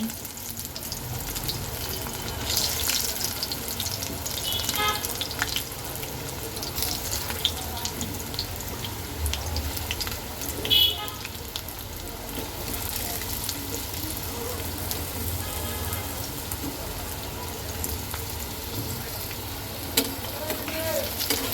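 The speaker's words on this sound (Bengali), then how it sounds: "তেলটা গরম হয়ে গেছে এখন আমি আলুগুলো দিয়ে দেব খুব বেশি ভাজবো না মানে হালকা ভাজবো" Potatoes, already boiled, frying lightly in hot oil for a Kashmiri-style aloo dum, a soft continuous sizzle with occasional stirring clinks and scrapes, fairly quiet throughout.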